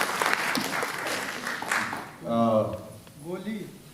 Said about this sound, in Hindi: सबसे खूबसूरती से मैं एक एक कलाकार से आपसे परिचय कराना चाहूँगा और चाहेंगे जोरदार ताली भी मिले